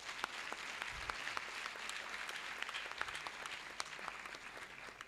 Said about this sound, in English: Shall we give her an applause?